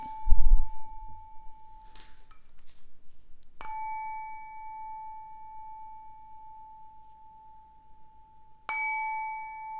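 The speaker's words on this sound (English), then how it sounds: "I'm going to ring the bell a couple times." A small bell struck twice, each ring a bright clear ding that sustains and slowly fades, the two strikes several seconds apart after some faint handling noise at the start.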